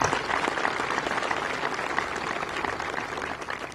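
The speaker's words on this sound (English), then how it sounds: "Please join me in acknowledging these individuals with a round of applause." Audience at a college commencement ceremony applauding steadily throughout, a dense, even wash of many hands clapping that holds at constant loudness with no voices standing out.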